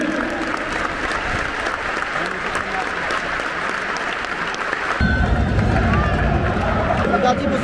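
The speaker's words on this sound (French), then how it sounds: "Nous vous invitons, s'il vous plaît, à respecter une minute d'applaudissement" Stadium crowd at a Rennes versus Lorient football match applauding for a minute in tribute before kickoff, a broad continuous roar of clapping and cheering that swells louder partway through.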